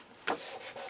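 A short, faint dry rub as paper is burnished down onto a scrapbook album page, one firmer swipe followed by lighter smoothing strokes, close and quiet.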